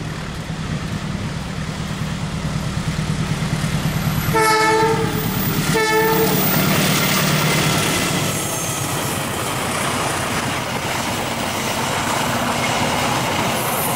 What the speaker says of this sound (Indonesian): saya bisa merekam kereta api dari timur yang melewati tikungan besar